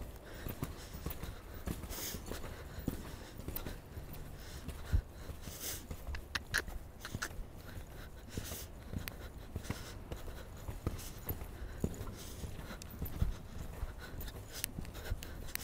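A horse trotting in a riding arena, with soft rhythmic hoofbeats on footing that repeat steadily over a constant low background, close by and moderately quiet.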